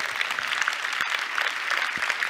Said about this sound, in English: Come on, let's give her some applause.